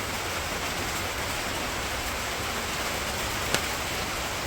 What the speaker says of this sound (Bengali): বড় বড় ফুটা পড়তেছে।